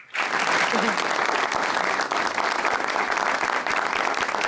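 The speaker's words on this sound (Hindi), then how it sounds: "दोनों के लिए भरपूर तालियां" A studio audience on a talk show breaks into dense, loud applause that starts suddenly and holds steady throughout, with a faint voice buried underneath.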